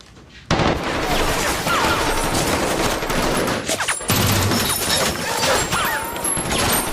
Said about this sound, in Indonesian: Suara dari tembakan senapan laras panjang silih berganti di antara mereka.